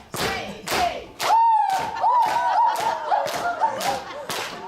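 Rhythmic clapping along, about two claps per second, at a Korean singing class with a women's audience in a hall, with a melodic voice singing over the steady beats.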